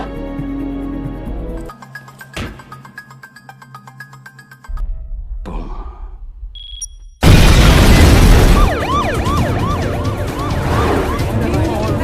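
A sudden, loud explosion from the film Don 2 bursts in with a deep boom and roaring rumble, after quieter tonal music and scattered sound effects, then sustains as a dense, noisy aftermath.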